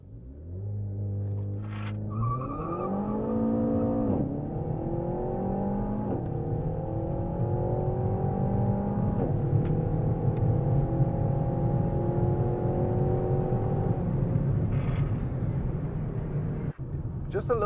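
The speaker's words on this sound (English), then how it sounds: "Just a little bit of wheel spin at the takeoff, and you know, after that you're just kind of picking up speed quite aggressively." A Renault Megane R.S 300 Trophy hot hatch launches hard with a brief chirp of wheelspin, its engine climbing through several rising revs and gear changes, loud and close from inside the cabin.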